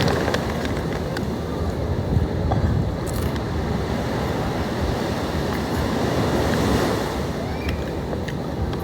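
Surf rolls onto a beach in a constant, moderately loud wash, mixed with light wind noise on the microphone and a few faint distant clicks.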